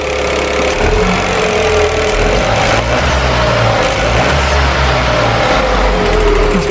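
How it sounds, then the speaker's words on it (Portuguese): A Dacia Sandero III engine runs on LPG with the bonnet open, a loud continuous idle with a low throbbing rumble and a steady whine close by. "Isto é o GPL, o barulho, não se assustem. É mesmo assim."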